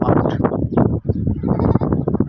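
Goats bleat over and over on a desert farm in Qatar, a loud, close, dense chorus of overlapping cries with barely a pause, young kids among the herd.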